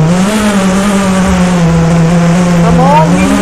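A video game truck engine drones at a steady, loud pitch while driving, with a brief rising rev near the end.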